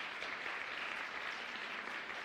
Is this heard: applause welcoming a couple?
yes